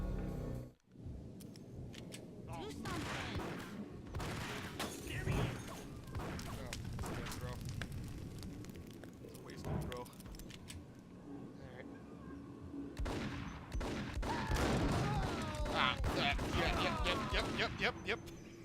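Gunfire in a video game shootout with a cop, heard as scattered sharp shots and booms over game noise, with people talking throughout and a denser burst of firing near the end.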